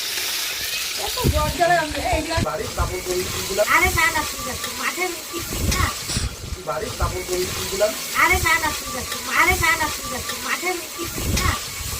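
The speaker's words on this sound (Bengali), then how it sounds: "এখানে ডুবো ডুবো করে গরম তেলে ছপাচপ ভেজে নিচ্ছি" Food deep-fries in hot oil at an outdoor picnic cooking chicken biryani and mutton near the Bangladesh border. A steady sizzling hiss runs throughout, partly under a person talking nearby.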